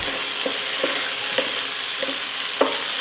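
Tomato juice being stirred into a frying pan, with a steady sizzle underneath and several light spoon scrapes at irregular intervals, close and alone with no talking.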